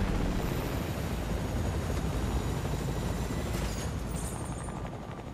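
A helicopter in Fortnite roars close by, a dense, steady rotor-and-engine wash that holds loud and constant, then eases slightly toward the end.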